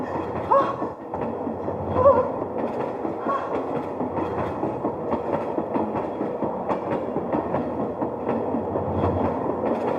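A train rolls steadily along the tracks, its wheels clattering in a continuous rhythmic rumble, loud and close throughout.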